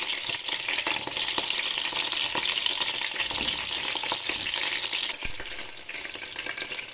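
Pieces of qarnoun pastry brown in oil in a frying pan in a home kitchen, a close, steady crackling sizzle that continues throughout with faint stirring and clinks and no talking.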